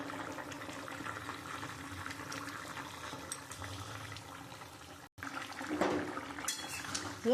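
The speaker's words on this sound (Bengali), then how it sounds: "ঝোলটা ফুটে গেছে, এবার আমি মাছগুলো দিয়ে দেবো।" Fish curry broth bubbling in a pot, a low steady simmer with a brief drop out, then a louder stretch of bubbling and light pot clatter toward the end.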